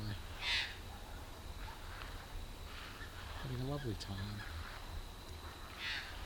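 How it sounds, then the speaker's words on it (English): Parrots and a magpie at a backyard bird feeder in the late afternoon, scattered squawks and calls at moderate distance, with a short burst of warbling, while a person talks quietly. "we have some lovely parrots having a feed in my bird feeder"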